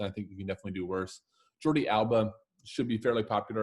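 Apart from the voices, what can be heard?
None of the usual background noises is heard.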